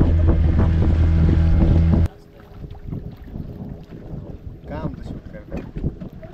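A boat heads out from Karli creek into the open sea, its engine droning loudly for two seconds before giving way to wind buffeting and water noise while people talk faintly.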